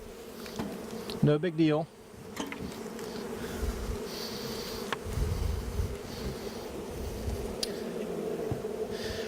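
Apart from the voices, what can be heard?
honey bees buzzing around the hives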